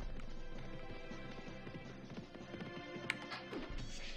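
Horse hooves clip-clopping in the video game Pixelry, a quick rhythmic run of soft hoof taps with a brief sharper hit near the end, faint and without talk.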